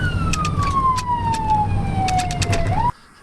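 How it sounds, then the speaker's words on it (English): A loud ambulance siren in Montana wails in a long descending sweep over engine rumble, with short repeated bursts, then cuts off abruptly near the end. "Sirens on, gas pedal down."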